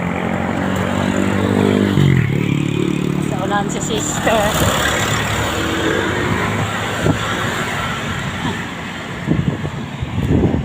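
Road vehicles pass on a long, hot bridge, engine and tyre roar rising and fading with gusts of wind close by, while people talk over the traffic.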